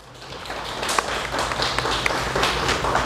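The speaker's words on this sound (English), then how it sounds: "Round of applause for Auntie Matrix out here." Applause and scattered clapping from a crowd at a community gathering, honoring a guest called Auntie Matrix, swelling after a soft start and holding at moderate loudness, with no voices standing out.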